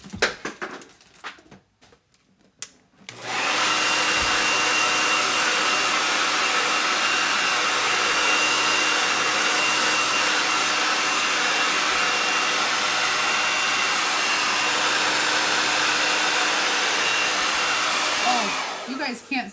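A hair dryer runs on its no-heat setting to dry a chalk-paste craft project, switching on loudly after a brief quiet start and blowing in a steady, unbroken roar for about fifteen seconds before cutting off.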